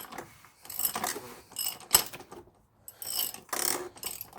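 A ratchet tightening an oil drain plug or filter on a VW Touareg TDI, several short bursts of close, crisp clicking separated by brief pauses.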